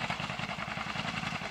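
An old John Deere B tractor mowing hay in third gear, its worn engine chugging in a fast, even, clattering rhythm, fairly close and steady, with no voices.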